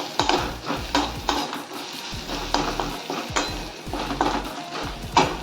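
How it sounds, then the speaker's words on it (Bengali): Onion pieces sizzle in a hot pan while a utensil stirs and scrapes against the metal in repeated bursts, close and steady with no voices. "পেঁয়াজটা ভাজতে দিয়েছি"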